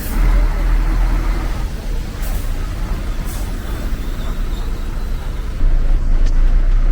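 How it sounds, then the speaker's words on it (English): Road traffic outside a driving exam centre in Kenya, a dense steady rumble of passing cars and heavier vehicles with a brief air-brake-like hiss, loud and continuous. "It's a lot of traffic."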